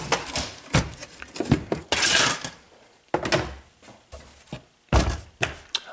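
Someone takes the case off a Sun SPARCstation computer, flipping the machine around: a run of irregular hollow thunks, knocks and clatters of metal and plastic panels, up close, with a brief scraping rush in the middle.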